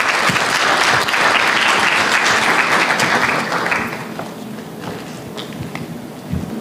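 Loud applause from a conference audience at an African employers' summit greeting the next speaker, dense and sustained for about four seconds before thinning to scattered claps.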